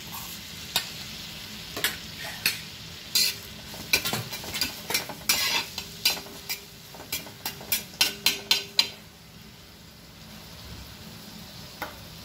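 Finely chopped onions hit hot oil seasoned with asafoetida on a tawa for pav bhaji, a soft sizzle under a run of sharp spoon clacks that speed up and then stop.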